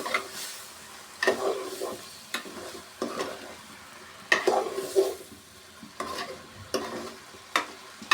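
Dried fish curry is sautéed in a pan, with a low sizzle under frequent spatula scrapes and knocks against the metal, coming in irregular bursts, close and moderately loud.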